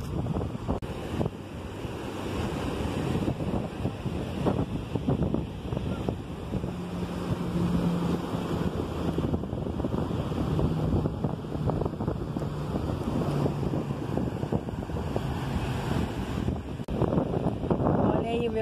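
Strong wind at a beach buffets the microphone with continuous loud rumbling gusts, while surf washes in the background and a voice talks faintly throughout.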